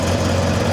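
Kawasaki Ninja ZX10R sport motorcycle engine running at a steady low idle, close and loud, a continuous even drone with no voices.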